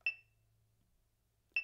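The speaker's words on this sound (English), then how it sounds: "I'm actually going to take this metronome and put it in half." Two sharp metronome clicks about 1.5 seconds apart, each a bright, glassy tick, set at 40 bpm and marking half time, with near silence between them.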